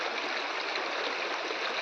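Rainwater rushing down from the Lankamala hills after heavy rains, a steady, close, full broadband roar of flowing water with no breaks or voices.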